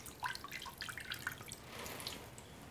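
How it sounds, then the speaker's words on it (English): Water drips and trickles in quick patters as stinging nettles are lifted out of water, fairly quiet and close, fading into a soft splash. "I'm going to pull the nettles out of the water, leaving any dirt behind."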